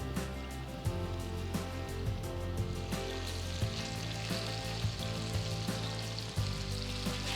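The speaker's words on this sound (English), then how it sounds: "next I'm going to fry the marinated paneer" Marinated paneer pieces frying in about two tablespoons of oil in a pan, a dense continuous sizzle with occasional soft knocks as pieces settle, no voices.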